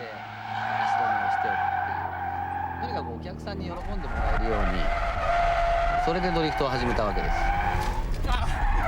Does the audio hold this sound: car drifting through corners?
yes